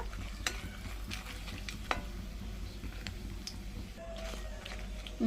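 Onions fry in a pan for a South Indian beerakaya chutney, giving a steady sizzle with stirring scrapes and a few sharp clicks, close and alone.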